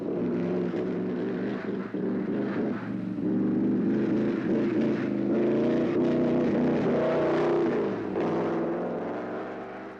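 A racing car drives a lap of the Nürburgring circuit, giving a steady, droning engine roar that rises and falls in pitch as it moves through corners, loud and continuous with no talking.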